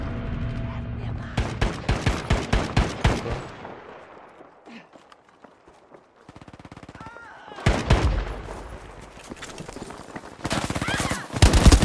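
Bursts of Type 2A automatic gunfire in Battlefield 5, rapid loud volleys with a quiet gap in the middle, then more heavy firing and explosions toward the end, with voices speaking briefly in between.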